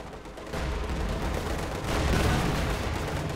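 Battle noise from the real-time strategy game Company of Heroes 2 as a Soviet T-35 tank opens fire, a dense continuous roar of gunfire and explosions that swells louder partway through, with no speech.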